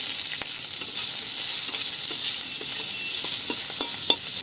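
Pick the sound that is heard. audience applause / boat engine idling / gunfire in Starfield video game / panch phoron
panch phoron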